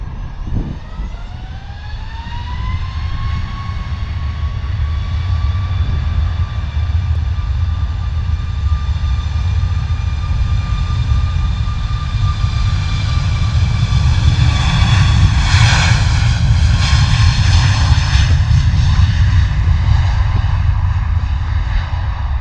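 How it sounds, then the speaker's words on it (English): A Ryanair Boeing 737 bound for Naples takes off from runway 25 at London Luton Airport, its jet engines building to a loud, steady roar with a rising whine that swells further as it climbs away. "Ryanair lined up on runway 25, 737 off to Naples this afternoon"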